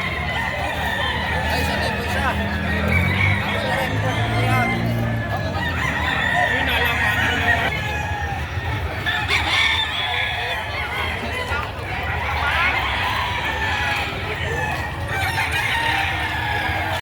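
Many roosters crow and chickens cluck continuously at a livestock auction market in Padre Garcia, Batangas, dense overlapping calls with crowd noise and people talking throughout.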